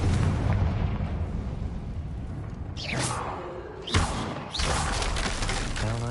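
Explosions from the Confringo fire spell in the game Hogwarts Legacy go off as loud booming blasts with crackling debris, two sharp hits standing out over a dense rumbling game soundscape.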